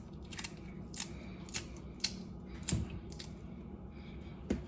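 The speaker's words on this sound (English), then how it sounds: "And then you get your Scotch bonnet. Again, just cut those into small little pieces." A knife chops a Scotch bonnet pepper into small pieces for curry goat, with several soft, evenly spaced cuts landing close on a board and no talking.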